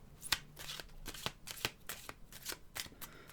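Tarot cards are shuffled by hand for a reading, giving a close series of quick, crisp riffling flutters in uneven bursts, fairly soft and without talk.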